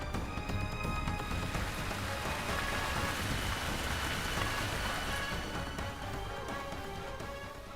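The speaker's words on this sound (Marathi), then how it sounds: "जिल्ह्याच्या ग्रामीण भागात सर्वदूर पाऊस पडलाय" Steady rain falling across rural farmland in a Maharashtra district during unseasonal showers, a dense continuous hiss of drops on surfaces with a faint low rumble beneath, loud and unbroken throughout.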